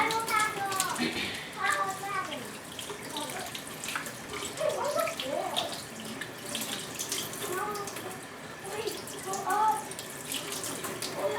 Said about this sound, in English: let me wash my hand again